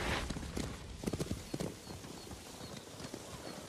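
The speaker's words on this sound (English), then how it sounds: "Bastards scared off the horses." Horse hooves clop across the ground in a quick irregular patter in the video game Ghost of Tsushima, fairly faint with a soft wind-like background hiss.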